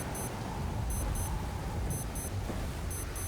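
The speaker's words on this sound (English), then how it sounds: "That beeping is really starting to get on my nerves." Repeated high electronic beeping from an alarm in the survival game Stranded Deep during a storm, sounding in short double bursts at a steady rhythm over a constant roar of wind and rain.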